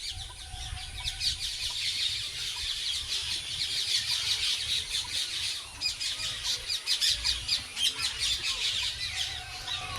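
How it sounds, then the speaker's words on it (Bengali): Many geese honking and squawking together in a continuous noisy chorus in a park, close and loud over a low rumbling background. "ভেতরে তো আরো বড় বড় হাঁস,"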